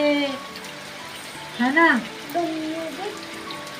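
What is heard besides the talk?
rain falling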